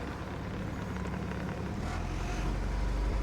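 Mercruiser inboard boat engine, a 165hp or 120hp unit, idling steadily during winterizing right after a squirt of fogging oil into the intake, a continuous low rumble close by with no talk.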